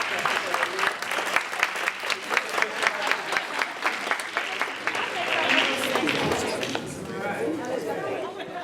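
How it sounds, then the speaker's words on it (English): Audience at a college veterans day ceremony applauds its veterans, a dense broadband clapping that swells and then thins out toward the end, with talk and crowd murmur mixed in. "Everybody, please a round of applause to our veterans."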